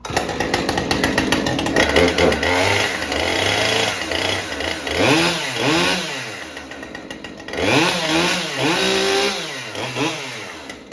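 Several chainsaws start and run close by, loud and continuous, with repeated revving swells that rise and fall as the throttle is worked.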